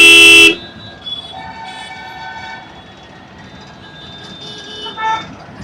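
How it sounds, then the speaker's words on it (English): A loud motorcycle horn blast opens sharply, then a quieter stretch of traffic hum with faint tonal hoots and a brief second honk near the end. "I'm not one of those to honk unnecessarily"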